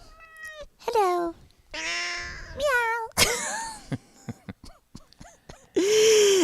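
A pet cat named Sasha meows several times, curious about a box holding a plant, her drawn-out cries alternating with a person's voice that imitates and answers her, close and clear.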